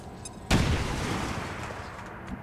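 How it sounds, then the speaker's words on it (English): A grenade exploding in the video game XCOM 2: one sudden loud blast that cuts in after a quiet start, then a long rumbling tail that slowly fades, with no speech. "I'm just gonna throw the blind grenade back there."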